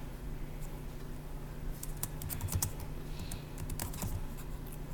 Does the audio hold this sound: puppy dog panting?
no